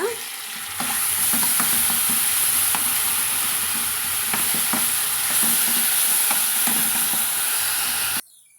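Ingredients with coriander leaves sauté in oil in a pan, giving a loud, continuous close-up sizzle and hiss broken by repeated clicks and scrapes of stirring, which stop abruptly at the end.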